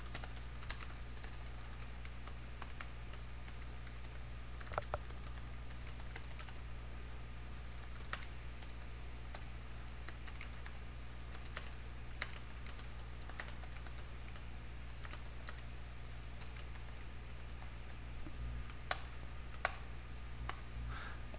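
Someone types a Hello World program on a computer keyboard. Faint, irregular key clicks run steadily over a low background hum.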